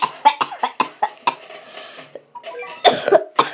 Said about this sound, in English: I'm actually making myself cough for now.